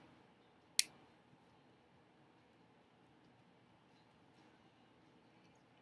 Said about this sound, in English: Before I trim it away.